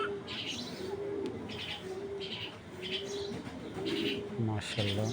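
Racing homing pigeons coo in soft, repeated low phrases, close and fairly quiet, over a steady background hiss with a few faint chirps.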